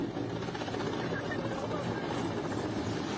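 A Mexican naval helicopter in flight, its steady rotor and engine drone filling the scene at a constant loud level, with people talking over it.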